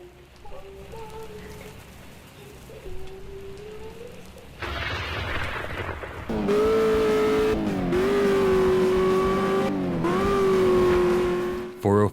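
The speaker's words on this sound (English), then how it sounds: "Swerve in and out of traffic and win money through close calls and driving the wrong way" Game cars weaving through traffic in .405 Road Rage, a rising engine whine with whooshing road noise that swells loud and steady over several seconds after a quieter opening.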